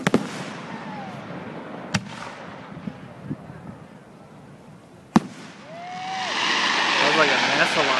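A fireworks display sends sharp booms and cracks echoing at intervals, whistling rockets rise, and a swelling crackle of bursts builds toward the end, with voices faintly heard around them.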